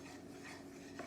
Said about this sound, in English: you want to keep stirring this flour